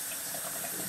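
Water drains steadily through holes drilled in a photographic print washing pan, a soft, even trickle and hiss that continues alone without any talk.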